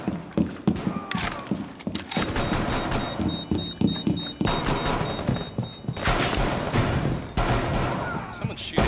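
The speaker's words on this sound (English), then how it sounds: "Someone's shooting at us outside." Gunfire in a Rainbow Six Siege terrorist hunt match, with bursts of shots and clattering game action running throughout, close and loud amid a dense mix of effects.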